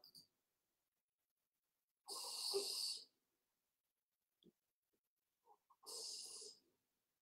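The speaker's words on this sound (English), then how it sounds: "y'all hear my dog snoring?" A pet dog snores loudly indoors, with two long, rasping snores separated by a quiet pause and a few faint small sounds in between.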